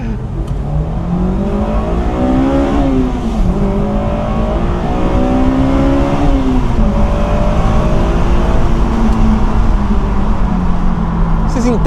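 A Honda S2000 engine revs hard toward 9000 rpm, loud and close, with repeated rising pulls and drops between gear changes over a steady road rumble, as someone talks throughout.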